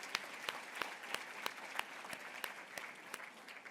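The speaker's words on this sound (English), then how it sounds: "they deserve a round of applause, absolutely" Gala audience at the WBDC Annual Gala Award Celebration 2025 applauds the honorary co-chairs, a dense, steady wash of clapping with a few sharper individual claps standing out at a regular pace.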